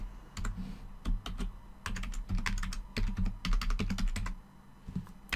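Rapid typing on a computer keyboard while entering an email address on a signup form, uneven bursts of close, crisp key clicks with brief pauses, no talk.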